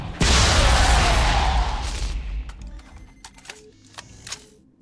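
An energy-ball weapon fires in the Revulsion video game with one loud, sudden blast that washes out broadly and fades over about two seconds, followed by a few small clicks and beeps.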